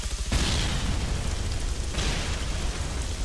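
Explosion in the video game Arma 3, a loud, full-band blast at the start followed by rumbling debris noise sustained for several seconds, with a second swell partway through.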